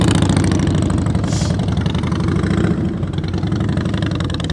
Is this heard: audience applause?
no